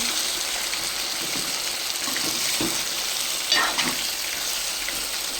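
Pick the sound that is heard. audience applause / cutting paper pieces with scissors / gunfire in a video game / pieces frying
pieces frying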